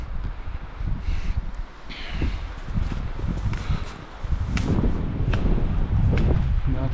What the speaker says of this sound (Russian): Да, там ветерок наверху.